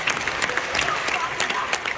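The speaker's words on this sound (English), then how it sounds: "Give her a round of applause." Full audience applause at a comic convention Q&A panel, a thick steady burst of clapping from a large crowd filling the hall, with faint voices beneath.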